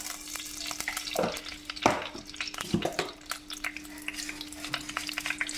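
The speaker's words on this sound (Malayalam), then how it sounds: "എണ്ണ ചൂടാകുമ്പോൾ അതിലേക്ക് കടുകിടുക." Mustard seeds spit and crackle in hot oil in a Kerala home kitchen, with a few sharp pops standing out over a steady sizzle and the scrape of stirring.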